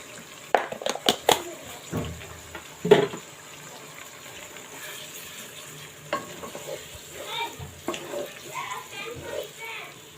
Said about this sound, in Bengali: মাংসগুলো আমি কিছুক্ষণ এভাবে কষাবো কষায় নিব